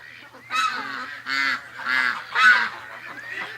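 Domestic ducks honk and quack in loud, near bursts, four or five strong calls with short gaps between them, on an early summer morning with a low steady hum underneath.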